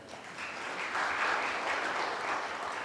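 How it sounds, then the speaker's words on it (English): An audience claps for the judges of a CFA research challenge, a dense, steady patter of many hands that swells slightly after the first second and holds to the end, with no voices over it. "So I'd like to pause here to request you to clap for them"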